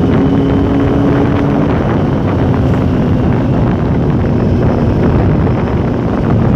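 A motorcycle engine hums steadily while riding in Australia under heavy wind buffeting, a loud, unbroken rush that barely changes as the ride goes on.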